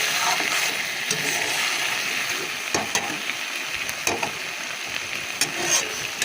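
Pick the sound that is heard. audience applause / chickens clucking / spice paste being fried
spice paste being fried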